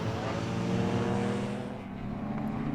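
A Mazda RX-7 race car with a ported rotary engine runs on a wet track in an Improved Production championship round, a dense, loud engine roar holding steady throughout.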